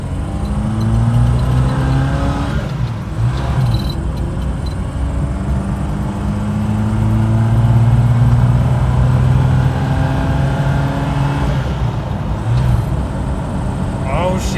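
Off-road rig engine running loud and close, a steady rumble with rising and falling revs throughout, and a voice talking over it at times.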